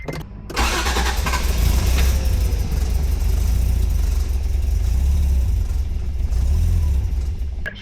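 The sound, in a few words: Honda NSX engine cranking and starting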